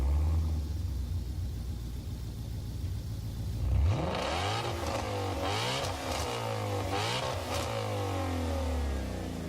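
Group 4 race cars in the video game Gran Turismo Sport roar and rev, with a low hum giving way to several loud engines climbing and shifting through gears close up, pitches sweeping up and down repeatedly.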